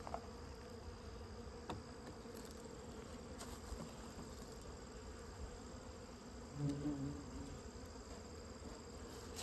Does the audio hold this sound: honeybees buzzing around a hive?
yes